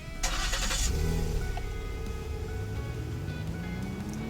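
A truck engine in the Roblox game Greenville cranks and starts, followed by a low idling rumble that slowly rises in pitch as it settles and revs slightly.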